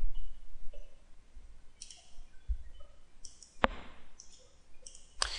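Mouse clicks while setting up software, a few sharp, close clicks spaced apart in an otherwise quiet room.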